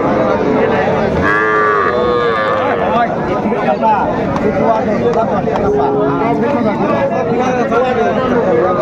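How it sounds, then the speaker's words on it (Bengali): Young bull calves moo repeatedly at the Ambari cattle market in Dinajpur, loud and close over a constant busy crowd murmur, with people bargaining and talking throughout. "ষাড় বাচ্চা"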